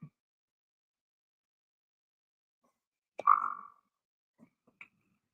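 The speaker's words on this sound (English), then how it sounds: "I know what toads sound like." Toads at night give one short, clear croak in a quiet setting, followed by a few faint, brief calls and scattered clicks.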